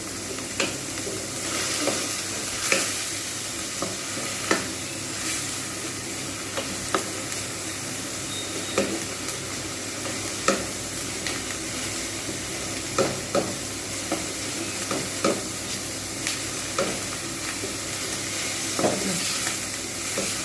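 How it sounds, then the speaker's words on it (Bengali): Onions fry in a pan for an egg korma, a steady sizzle broken by regular scraping clicks of a spatula stirring every second or two, close and unaccompanied by talk. "বেশ কিছুক্ষণ সময় ধরে পেঁয়াজটাকে কিন্তু ভাজতে হবে"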